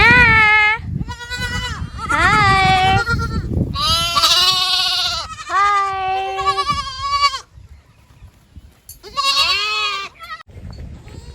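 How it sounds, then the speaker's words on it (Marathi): Several goats bleat loudly and close by, in repeated wavering cries that overlap, with a brief lull before a final burst. "आमच्या इकडे बकरी बसायला आले ते शेतात"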